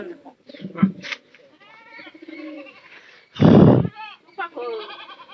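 A large goat gives one loud, close bleat in the middle, with people talking before and after it.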